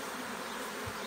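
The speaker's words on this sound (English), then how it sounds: "we shook a whole bunch of nurse bees in here" Nurse honey bees packed into a queen rearing box give a dense, steady buzzing hum, close and continuous without a break.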